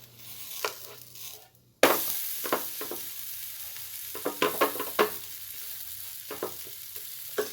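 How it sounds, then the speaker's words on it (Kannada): Mushroom paneer paratha frying in a pan, a faint steady sizzle broken by soft scraping and stirring clicks, with a brief drop to near silence before the cooking noise returns. "ಈಗ ಸ್ವಲ್ಪ ಫ್ರೈ ಮಾಡ್ಕೊಳ್ಳೋಣ"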